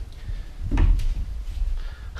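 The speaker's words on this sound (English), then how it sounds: "and our little slidey door" Sliding wardrobe door in a master bedroom rolling along its track, a low rumbling glide with a couple of soft knocks as it moves and settles, heard up close.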